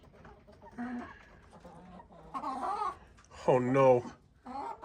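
Light Sussex hens and a rooster clucking in a backyard flock, a few close, moderate bursts of clucks and squawks spaced across the moment, with a person speaking briefly among them.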